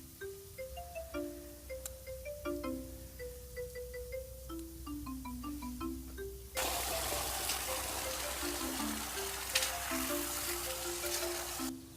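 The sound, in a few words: water running from tap, rinsing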